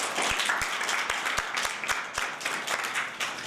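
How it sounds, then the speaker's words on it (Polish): An audience applauding at a Women's Day concert in Poland, dense sustained clapping from a crowd with a few sharp, close individual claps standing out at a steady beat. "Wielkie brawa."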